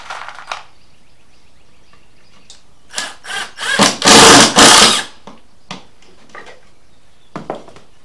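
A power drill driving screws into pocket-hole joinery pieces for cabinet-style storage crates, several short whirring bursts followed by one longer, loud run, then a few brief taps and zips, close and with no talk.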